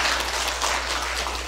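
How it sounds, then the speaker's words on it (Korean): Congregation applause at a Korean afternoon worship service, following a clarinet performance; steady, dense clapping from many hands filling the room at even loudness, with no voices standing out. "하나님 앞에 영광의 박수를 부탁드리겠습니다."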